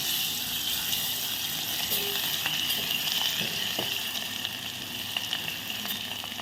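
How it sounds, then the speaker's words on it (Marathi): Steady crackling sizzle of tempering spices frying in hot oil for an aubergine dish, close and continuous, with a few sharp pops and faint stirring clinks. "आता आपण फोडणी एकदा डवळून घेऊया"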